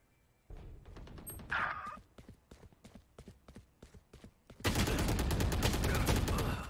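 Burst-fire gunshots in the Valorant video game crack in a quick, evenly spaced series of sharp reports, then give way to a loud, sustained wash of overlapping fire.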